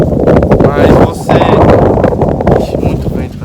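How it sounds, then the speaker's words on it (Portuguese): Strong wind buffets an outdoor microphone in continuous loud rumbling gusts, swelling and easing across a few seconds, with a voice talking underneath. "Ixi, muito vento, pessoal, muito vento."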